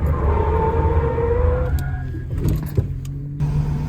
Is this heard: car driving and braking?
yes